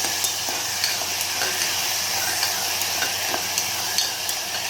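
Bottle gourd curry with tomato cooks in a pan: a steady, close sizzle and bubbling runs throughout, broken by regular light scrapes and clicks of stirring.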